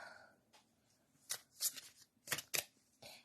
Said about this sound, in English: Let's shuffle some more cards.